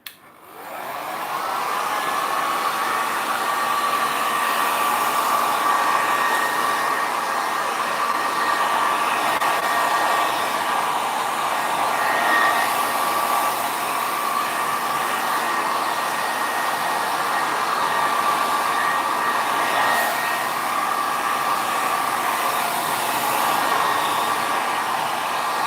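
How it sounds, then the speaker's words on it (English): A heat gun on low speed and low heat drying alcohol ink drips, starting up and then blowing in a steady, loud continuous whoosh with a faint whine for the whole stretch, with no talking. "we'll dry it off with that heat gun. So low speed, low heat."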